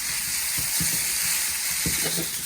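Eggs fry in a pan of chicken chowmein, a steady close sizzle and hiss broken by a few soft thumps of stirring.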